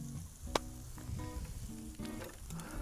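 Bacon sizzles on a barbecue grill in a short, faint burst of crackling frying with a brief clack near the start.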